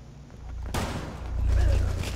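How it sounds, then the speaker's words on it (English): Cluster grenade blasts in Rainbow Six Siege, a sudden sharp burst followed by a rolling spread of rumbling detonations and crackle at close range, swelling louder toward the end. "that is the cluster grenade"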